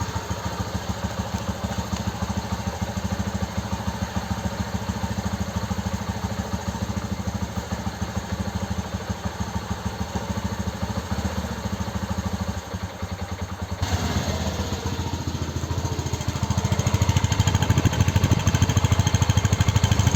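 A Bajaj Boxer motorcycle started after three months of standing, its engine running with a steady, loud, close clattering idle that shifts in tone partway through and grows slightly louder, no talking.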